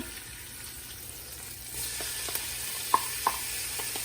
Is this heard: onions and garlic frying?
yes